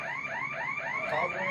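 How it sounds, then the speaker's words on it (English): A store's electronic alarm sounds on body-camera audio at a Walgreens at 3 a.m., a steady repeating whooping electronic tone with rising sweeps, loud and continuous with no talk. "So the alarm's going off"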